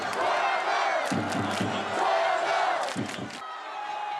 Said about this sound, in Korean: 경기가 끝날 때까지 응원 함성은 식을 줄 몰랐습니다.